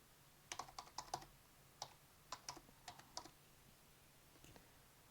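Keys on a computer keyboard are tapped in short irregular bursts while typing a Linux vi command in a quiet room, with about a dozen crisp, fairly soft clicks and a faint low hum underneath.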